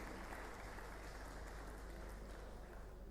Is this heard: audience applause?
yes